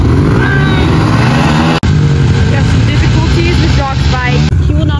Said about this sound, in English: guys, start up your bike.